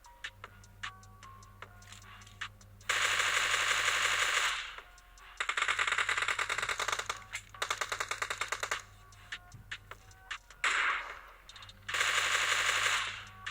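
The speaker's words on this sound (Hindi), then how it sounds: "अब मैंने यह एक फायर किया जिससे मेरी पोजीशन रिवील हो गई" Video game gunfire arriving in several long rapid automatic bursts separated by quieter stretches of ticking game noise, loud and close, with no talking.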